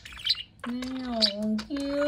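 Pet budgie chirping and squawking indoors, a short harsh call followed by longer warbling tonal chirps with brief breaks, close and clear, with no talk over it.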